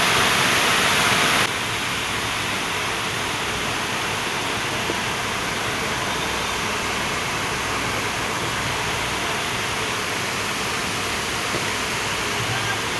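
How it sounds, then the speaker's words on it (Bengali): Steady, heavy roar of the Dhuppani waterfall in Muppochora, a broad continuous rush of falling water that fills the scene without pause, with no voices. "মন ভোলানো, পাগল করে দেওয়ার মতো ঝর্ণা, দ্য মাইট অফ ধূপপানি"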